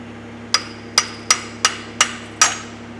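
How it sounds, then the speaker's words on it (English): Six sharp metallic hammer taps struck at a steady pace on a mini excavator, each ringing briefly over a low steady hum. "maybe I'll tap it with the hammer"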